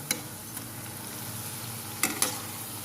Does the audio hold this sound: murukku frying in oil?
yes